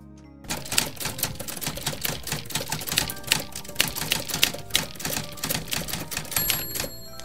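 Rapid keyboard typing while entering text in Xara graphics software, a steady run of close, crisp key clicks lasting several seconds with no talking.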